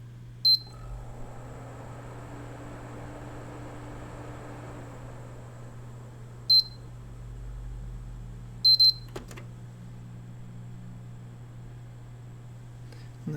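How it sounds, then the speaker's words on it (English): Several short electronic beeps from a PS3 console sound over a steady low hum: one early, one midway, then a quick pair near the end. "Now I got to hold for 4 beeps."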